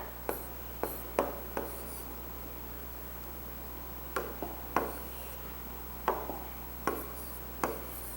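Pencil writes a maths answer on paper in a series of short scratchy strokes, several quick bursts then a pause and more strokes, close and fairly quiet over a steady background hum.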